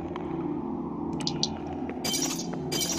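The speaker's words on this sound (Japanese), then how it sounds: "ガラスを踏む音がリアル。" Footsteps crunching over broken glass in the Ameba Pigg game's abandoned infected-hospital level: a few brief crackling bursts, then denser crunching near the end, over a steady low droning background.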